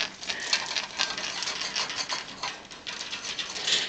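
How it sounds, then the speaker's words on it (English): An eclectus parrot sharpens its beak with rapid dry scraping and grinding close up, an irregular patter of small rasps running throughout without speech. "Oh, sharpen up the beak."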